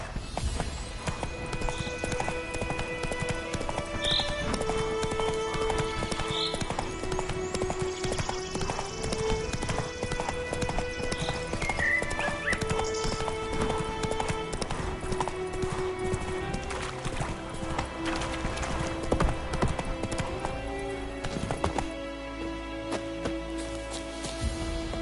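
Hooves of Roach, a horse in the video game The Witcher 3, clip-clopping in a steady rhythm throughout, mid-distance, under game music and ambience.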